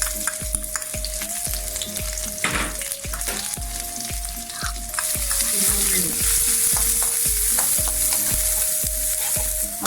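Urad dal and green chilies fry and sizzle in hot oil in a home kitchen pan while being stirred for carrot upma, with a steady crackling hiss and regular scraping strokes of a spoon throughout and no voices.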